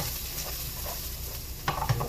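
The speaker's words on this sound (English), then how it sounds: "Hear that sizzle?" Onions hit a hot pan for a meat sauce and sizzle with a steady hiss, followed by a couple of brief clanks from the pan near the end.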